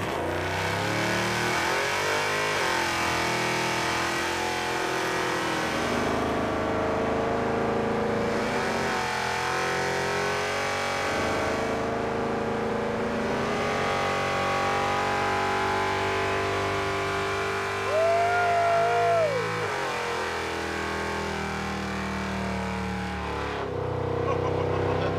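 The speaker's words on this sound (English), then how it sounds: "I feel obligated to do a burnout in the muscle truck." A muscle truck doing a burnout, its engine revving hard and holding loud, rising and falling for the whole stretch, with a sharp upward swoop near the end before the revs ease off.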